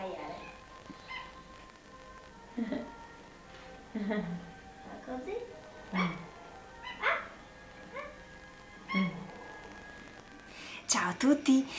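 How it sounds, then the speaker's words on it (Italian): A small dog gives a string of short, soft barks and yips at irregular intervals, close by, while someone speaks to it quietly in between. "Bravo, abbaia."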